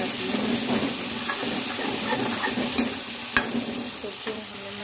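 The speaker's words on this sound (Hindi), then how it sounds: "अब यहाँ पर हमारे टमाटर अच्छी तरह से भून चुके हैं, प्याज टमाटर इसमें मिक्स हो गया है।" Onions and tomatoes frying in a pan for baingan bharta (Indian roasted eggplant dish), a steady close sizzle with occasional stirring scrapes and faint clinks, no talking.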